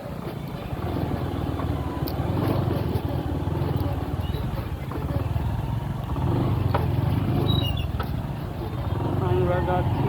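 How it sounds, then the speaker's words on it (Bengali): Motorcycles ride along a road through the forest, with a steady engine drone and road rumble running loud throughout, and people talking over it. "রাস্তা জঙ্গলের মাঝখান দিয়ে এই যে মোটরসাইকেলে আমরা যাচ্ছি সবাই"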